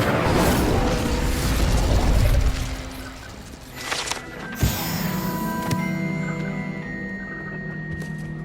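Incendio fire spell cast in Hogwarts Legacy, a loud roaring burst of flame and crackling blast that fades into lingering magical shimmer and soft pops.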